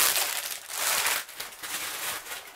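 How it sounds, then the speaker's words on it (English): A plastic bag wrapped around a diamond painting canvas kit is torn open by hand, giving close, loud crinkling and ripping bursts that surge and pause over a couple of seconds. "it's in a plastic bag here, which I'm going to rip open"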